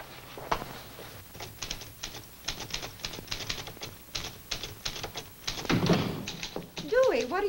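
Rapid, uneven mechanical key strikes of a typewriter clatter throughout, with a louder thunk near the end.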